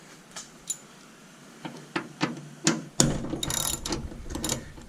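A socket ratchet clicks in short bursts while a 12 mm bolt is backed out of a hood strut bracket on a 2022-2023 Hyundai Elantra N, sparse ticks at first, then rapid continuous ratcheting, close by.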